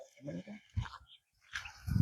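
A dog whimpers and yelps in short bursts nearby, mixed with brief vocal sounds and a low thump at the end.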